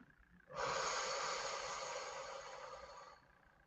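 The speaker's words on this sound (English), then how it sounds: "Breathe it in. Now exhale." One long, deep breath of air rushes out for about two and a half seconds, close and steady, rising sharply at the start and fading gradually at the end.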